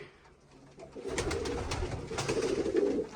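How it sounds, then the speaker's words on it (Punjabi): Pigeons coo in a coop crowded with birds on a farm, a soft, irregular, overlapping murmur that swells after the first second and continues close and steady, with no talking. "ਸਾਰਾ ਖੁੱਡਾ ਕਬੂਤਰਾਂ ਦੇ ਨਾਲ ਭਰਿਆ ਹੋਇਆ"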